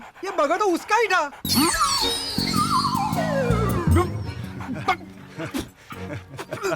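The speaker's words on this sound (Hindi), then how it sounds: "कुत्ता क्यों भौंक रहा है?" A dog barks and whimpers in rapid yips near a street food spot, loud and close, then a long burst of shrill, sweeping cries and growl-like sounds overlaps it while someone speaks over it.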